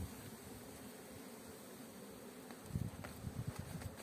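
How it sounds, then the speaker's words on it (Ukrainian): Soft buzzing of bees flying around a beehive with a low roof, a faint continuous hum with a few closer, louder passes near the end. "Бджолки теж літають, несуть пальцю."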